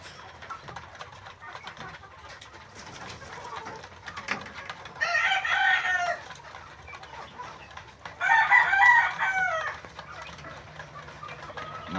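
Caged gamefowl chickens cluck softly in the background, broken by two loud, close crows, one in the middle and one near the end.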